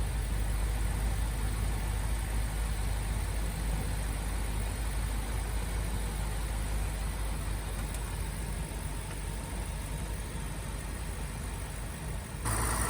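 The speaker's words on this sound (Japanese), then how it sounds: "5分ぐらいエンジンを回してオイルを全体に行き渡らせます。" A 2008 BMW X5 E70 4.8i engine idles steadily with a low, constant rumble after an oil change, close and unbroken for the whole stretch, with no voices.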